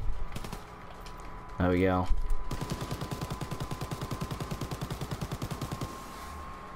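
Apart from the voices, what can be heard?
MG42 machine gun firing in video game Call of Duty WW2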